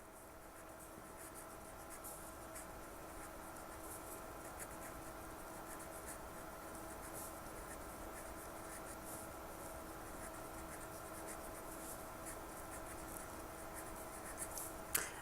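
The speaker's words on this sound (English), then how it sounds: "So I'm going to write the very end." Hand writing on paper, a soft continuous scratching of strokes running the whole time over a low steady room hum, quiet and close, with a small tap near the end and no voices.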